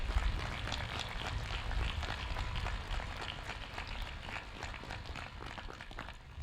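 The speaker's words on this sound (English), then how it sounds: "Please join me in showing gratitude to all Methacton staff through your applause." A graduation crowd applauds the Methacton school staff, producing a long, continuous spatter of distant clapping spread across a large venue, fairly faint and slowly tapering, with low rumble underneath.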